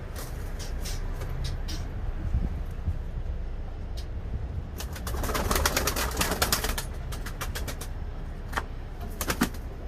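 Pigeons cooing and shuffling nearby, with bursts of wing flaps and fluttering over a steady outdoor background.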